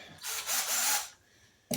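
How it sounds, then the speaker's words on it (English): A power drill whirs briefly at close range, spinning up for under a second before stopping, followed by a short click. "take my drill here, put my drill bit in it"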